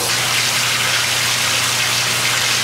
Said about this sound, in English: The water flow is basically down through that center support area, flowing right across over there